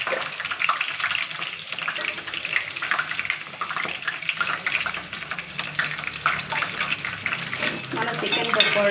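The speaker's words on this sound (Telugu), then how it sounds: "ఇవన్నీ వేగాయి కదండి, తీసేద్దామండి చికెను. చూడండి, ఇలా వేగాలండి." Chicken pakoda frying in hot oil, a steady dense crackling sizzle that runs throughout at close range with no talk over it.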